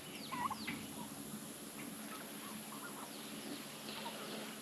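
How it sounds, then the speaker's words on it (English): Homestead chickens clucking softly nearby, a few short bursts of fowl calls over a quiet steady background hiss, with no talking. "There's the chickens."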